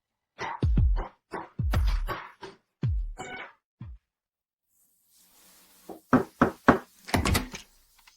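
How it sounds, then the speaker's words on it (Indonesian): Knuckles rap on a door in two bursts: a rapid run of loud, close, hollow knocks, a pause of near silence, then another quick flurry of sharp raps. "Kenapa kamu mengetuk pintu sembarangan?"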